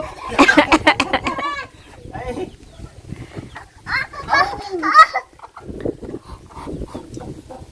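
Chickens cluck and call close by in a farmyard, with a voice talking over and between the bird sounds.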